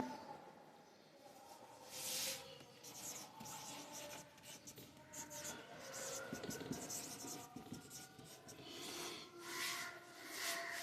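Marker or chalk writing on a board during a physics lesson gives a faint, continuous scratching and squeaking, with short strokes and pauses, quiet and without speech.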